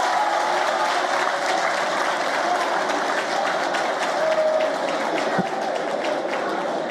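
An audience applauds French soldiers with sustained, dense clapping that holds steady throughout, moderately loud and filling the room with a continuous crowd roar.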